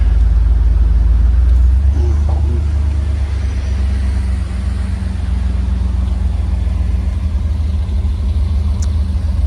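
A 1992 Iroc Camaro convertible with a five-speed idles steadily close by, its deep, loud, even rumble holding throughout with no voices over it.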